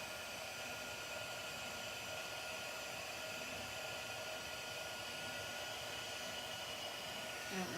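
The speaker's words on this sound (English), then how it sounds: "on my little wheelie cart here, I have my heat embossing tool" A handheld heat embossing tool blows hot air at a steady level for the whole stretch. The broadband whoosh stays constant with no talking over it.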